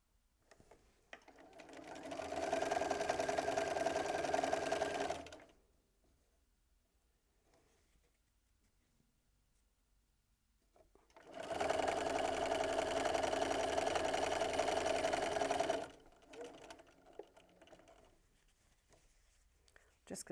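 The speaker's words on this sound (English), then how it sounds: "Just going to do a bit of chain piecing here to make life easier." Sewing machine chain piecing batik fabric scraps with a quarter-inch seam, two steady runs of stitching, close and fairly loud, with a quiet gap and faint handling noises between them.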